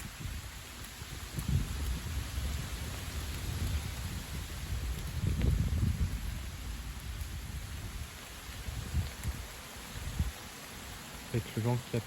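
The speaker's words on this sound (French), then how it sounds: "Voilà, une averse." A gusty rain shower on a windy September day, steady rain hissing across the whole stretch while low wind gusts swell and fade, strongest near the middle.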